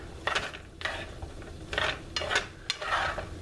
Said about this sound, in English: Just kind of want to give it a good stir to break up all those onions I chopped.